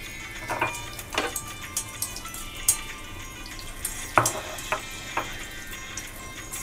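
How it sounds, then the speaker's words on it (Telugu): Cashews and raisins frying in ghee in a kadai, a low sizzle broken by repeated sharp clinks and scrapes of a spoon stirring, irregular and close, with no speech. "అదే గీలోకి జీడిపప్పులు కూడా వేసుకుని వేయించుకుందాం"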